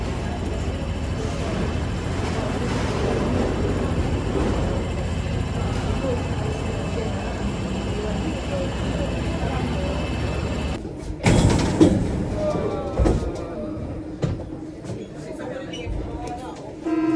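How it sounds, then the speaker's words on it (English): Paris metro train arriving at a station: a steady mechanical rumble and whine that cuts off into clunks and door mechanisms, with people talking nearby. "This is the metro of Paris."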